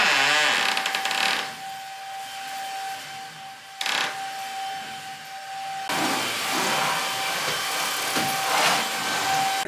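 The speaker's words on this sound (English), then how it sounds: "So I'm gonna hoover the hallway" A vacuum cleaner hoovers a hallway in a flat, its steady whining roar cutting in and out with short pauses and surges as it is pushed around, with no talk.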